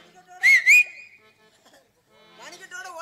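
Two short rising whistles in a Tamil drama scene, used to call someone, sounding loud and close, followed by quieter voices.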